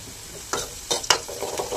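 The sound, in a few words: onions frying with salt and turmeric in a pan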